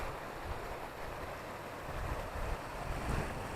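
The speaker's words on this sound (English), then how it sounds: "here we are at the waterfall on the East Dart River." Steady, broadband rush of a waterfall on the East Dart River, close and continuous with slight swells, no voices over it.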